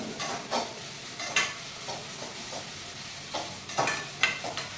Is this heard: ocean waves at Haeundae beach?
no